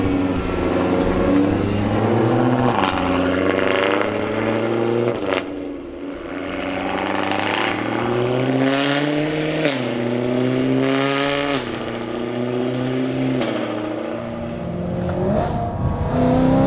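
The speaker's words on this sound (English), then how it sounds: "get said exhaust making some lovely noise" A BMW E92 M3's exhaust booms loud and close while driving, its note climbing and dropping repeatedly as it accelerates and shifts through the gears, with no talking over it.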